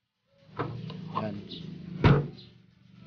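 A Suzuki Dzire car door opens with a single sharp clunk partway through, set among brief handling noises while a person talks nearby.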